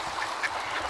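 Ducks quack a few times at a dark pond where swans and other waterfowl gather, the calls faint and distant over steady outdoor background noise.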